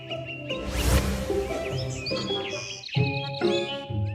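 Two cartoon birds visiting a garden chirp and tweet in bright, close whistled calls, with a short burst of rapid chirps and several rising and falling tweets in quick succession.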